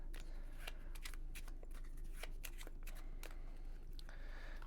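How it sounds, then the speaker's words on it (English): A deck of playing cards from the Gorus Maximus card game being shuffled by hand in a series of quick riffles and snaps, close and fairly quiet over faint background hum, with no voices. "Now, you will shuffle the deck"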